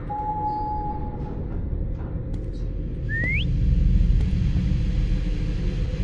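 Whistling inside the horror game Lazaret: a steady held whistle tone, then a short rising whistle a few seconds later, over a constant low rumbling ambience with no talk.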